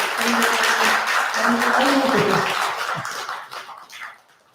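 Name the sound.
audience applause for a student at a temple service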